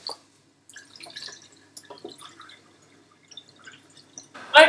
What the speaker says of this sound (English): Then we rinse it with cold water, then we drain any cloudy starch, and then rinse.